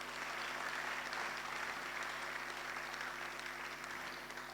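Applause from an audience at a youth empowerment gathering in Ghana, a faint, steady wash of many hands clapping heard from a distance, continuous and even with no voices over it.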